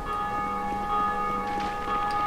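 A bell in the video game Dark Souls 2 rings with a sustained metallic tone, a few soft strikes sounding over a steady hum, fairly faint and alone.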